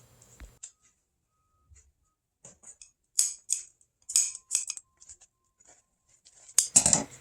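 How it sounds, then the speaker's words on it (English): Scissors snip relief cuts into the seam allowance of boat seat upholstery fabric, a few sparse close clicks followed by clustered quick crisp snips in short bursts, separated by quiet pauses. "These are just some relief cuts I'm making so my seam allowance can flip nicely on each side at the back."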